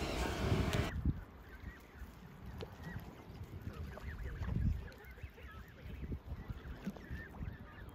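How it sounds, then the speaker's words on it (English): Canada geese honking repeatedly near brackish marsh water, a scattered series of calls at moderate distance over an open outdoor ambience, with a brief loud rush at the start. "the Canada goose is also common in brackish marshes, estuaries and lagoons"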